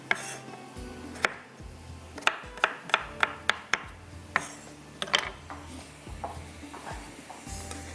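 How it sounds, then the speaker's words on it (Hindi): A spoon stirs pasta in a pot, giving a run of sharp clinks and knocks against the metal at an irregular rhythm, close and fairly loud, with quieter scraping in between. "बस ये आपने ज़रा चम्मच इसलिए चला लेना है कि ताकि ये एक दूसरे से जुड़े ना"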